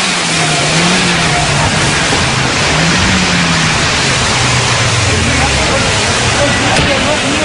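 A stolen car's engine revs hard and continuously during a joyriding rodeo on a housing-estate lot amid the 2005 riots, loud and close, with rising and falling revs and voices mixed in.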